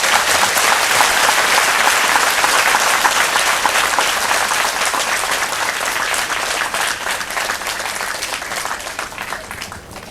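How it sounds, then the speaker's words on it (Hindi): A church congregation claps together in praise during a Hindi worship service, a dense, sustained wash of applause that stays loud throughout and tapers slightly toward the end. "हम परमेश्वर को ताली बजा के महिमा देंगे।"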